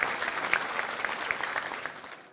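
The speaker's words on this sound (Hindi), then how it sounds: "मेरे साथ इधर से तालियां बजाइए भाई इनके लिए।" A studio audience at a televised poets' debate show claps in a dense, continuous patter that gradually tapers off toward the end.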